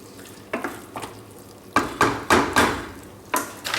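Roast pumpkin risotto is stirred in a pan, with a series of short scraping, sizzling strokes that come in irregular bursts, some clustered close together, loud and near with no talking.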